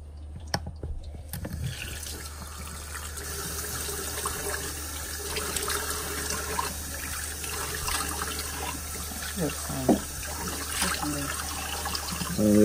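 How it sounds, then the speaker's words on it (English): Water thrown over a person's head to rinse strawberries out of their hair, a steady splashing, running-water wash that carries on throughout, near and fairly loud, with a few brief louder splashes. "I'm gonna throw water on this one."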